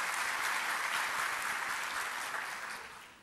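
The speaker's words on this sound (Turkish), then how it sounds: "Ben buraya katılan siz değerli arkadaşlarımı tüm arkadaşlarım adına yürekten alkışlıyorum." Attendees at a Turkish accounting and tax procedure seminar applaud. The applause is a dense, continuous wash of many hands, steady and moderately distant, and it tapers slightly at the end with no speech over it.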